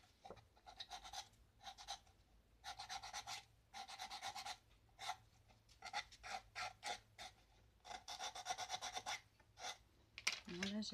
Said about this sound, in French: je vais limer tout doucement mon papier.